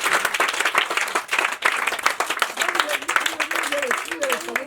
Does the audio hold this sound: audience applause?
yes